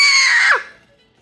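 A child screams once, a loud, high, close cry that drops in pitch and cuts off sharply after about half a second.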